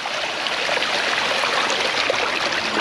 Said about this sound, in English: Drain this water on down